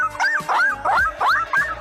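A young woman imitates a dog with her voice, giving about five quick, close yipping barks in an even rhythm, each a short rising-then-falling yelp, with no other speech around them.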